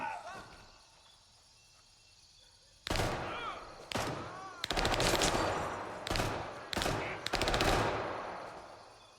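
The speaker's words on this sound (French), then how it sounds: "j'entends comme si vous tirez à côté" Automatic gunfire in the video game Gray Zone Warfare, heard as several sharp, loud bursts of rapid shots after a quiet stretch, with short pauses between the volleys.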